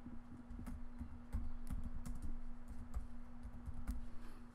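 Fingers tap on a computer keyboard in quick, uneven runs of close, light keystrokes over a faint steady electrical hum.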